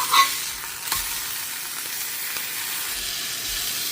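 A seasoned burger patty sizzles steadily on a hot griddle for an In-N-Out-style animal-style burger, a continuous bright crackle with a few sharper pops early on and no talking.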